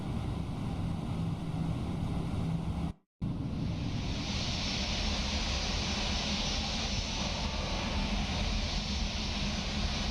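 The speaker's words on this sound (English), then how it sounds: "wait for the engines to rev down" Airbus A321ceo jet engines whining down on the ground in Microsoft Flight Simulator 2024, a steady broad roar that cuts out briefly, then returns with a higher-pitched hiss held to the end.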